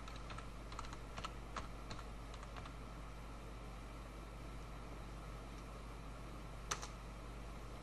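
Typing a website address on a computer keyboard, a quick run of light clicking keystrokes at the start, then a long pause and one final sharper keypress near the end, over a steady low hum.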